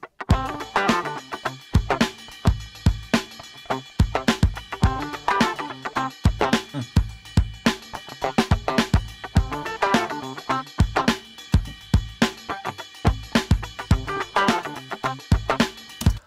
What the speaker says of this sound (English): I call this guitar fill. It's two guitars that has more like a upper mid type of sound